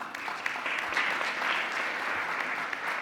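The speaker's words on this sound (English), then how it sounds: "invite you once again for a big, big round of applause for all these officers" A large audience applauds at a closing ceremony, a steady, dense clatter of clapping that holds even and full throughout, with no speech over it.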